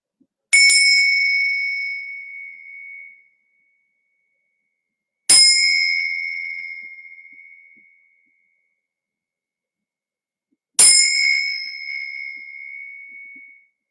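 Three clear, bright tingsha bell strikes, spaced about five seconds apart, each ringing with a long shimmering decay into silence; no talking.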